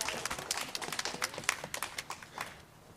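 Audience applause for Reverend Fred L. Hammond at a statehouse rally, a steady run of close, crisp handclaps over about three seconds that thins out toward the end.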